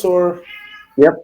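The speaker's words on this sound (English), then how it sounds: "Sorry about the cat." A cat meows twice nearby during a group voice call, a drawn-out meow then a shorter one, with a person's brief words in between.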